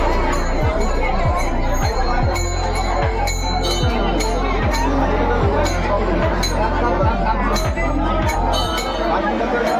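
A crowd in a temple in Karmala during aarti: a dense murmur of voices and chatter, with a rhythmic metallic clink or bell strike repeating about once a second, loud and close throughout.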